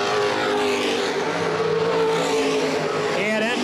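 An open-wheel modified race car, number 9, runs its final laps at Baer Field Speedway, a loud continuous engine roar that holds steady throughout without a break.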